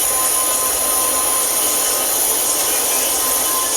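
A steady, loud broadband roar runs unbroken throughout, like a train rolling past on the rails during a holiday excursion ride on a heritage railroad, with no clear rhythm or clatter separating out of the constant wash.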